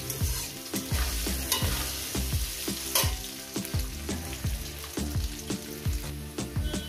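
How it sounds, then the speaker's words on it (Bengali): Potato pieces fry in a pan with salt, a continuous sizzle broken by a regular rhythm of spatula scrapes and clanks from steady stirring, close and loud, no voices. "এবার এটাকে আমি 4-5 মিনিট ধরে আলুটাকে ভাজবো।"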